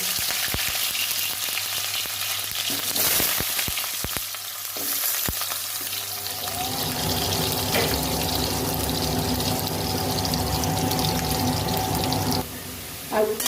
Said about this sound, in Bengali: সর্ষের তেল দেবো আলু কেটে নিয়েছি ধুয়ে পরিষ্কার করে আর আলুগুলো ভেজে নেব